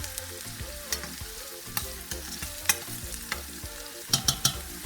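Chopped onions frying and being stirred in a pan for Nigerian jollof rice, a steady close sizzle broken by scattered sharp clicks of a utensil scraping and tapping the pan, with no talking.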